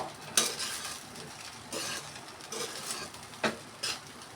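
Egg fried rice is stirred in a pan with a spatula, with quiet scraping strokes and sharp clinks of metal against the pan over a faint sizzle.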